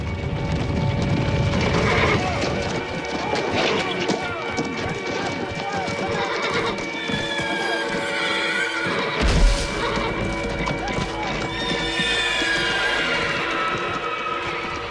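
Horses neigh repeatedly amid a heavy clatter of hooves and general commotion, with a deep thud partway through and voices mixed into the din.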